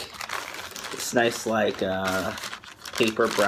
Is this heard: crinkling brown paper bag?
yes